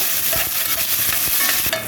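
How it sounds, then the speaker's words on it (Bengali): A large chopped onion fries in about two spoonfuls of hot oil, giving a steady, close sizzle with repeated scraping stir strokes throughout. "এই যে এখন পেঁয়াজটাকে প্রথমে একটু ভেজে নিব"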